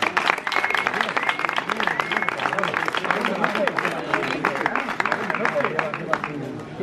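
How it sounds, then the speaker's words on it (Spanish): Applause and clapping from a crowd at the awards of a quick-painting contest in Villa de Nalda, a steady, dense patter that holds for several seconds with voices mixed underneath. "un aplauso para él también"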